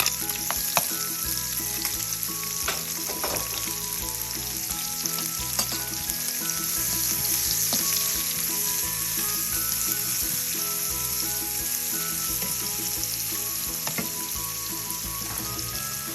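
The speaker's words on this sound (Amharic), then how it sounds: "አሁን ይሄ በዘይቱ ስጋውን በጠበስኩበት ዘይት ሽንኩርቱን አረጋለሁ እዚህ ጋር።" Onions fry in leftover meatball oil in a pan for spaghetti and meatballs, giving a steady close sizzle with occasional stirring clicks throughout and no voices.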